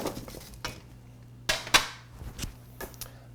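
Hot baked Old Bay potato wedges scraped off a baking sheet into a bowl, with several sharp metallic clanks and scrapes of utensil against pan, a couple of them loud and close, alone without speech.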